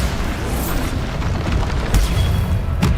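Bombarder spell blasts in Hogwarts Legacy on PS5: loud, continuous booming bursts with rumbling low end through the whole stretch, a couple of sharper cracking pops standing out near the end.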